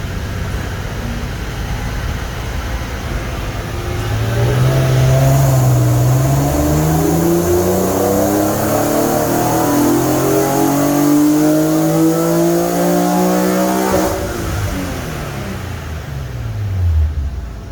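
A car on a dyno after an octane booster is added, its engine revving up through the gears in a loud, rising wail with several upshifts, then winding back down near the end, close and with no talking.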